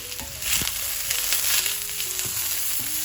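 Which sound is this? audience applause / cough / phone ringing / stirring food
stirring food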